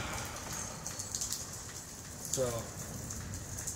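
Rain drums on a porch roof in a steady, close patter with a slight swell midway, while someone briefly speaks over it.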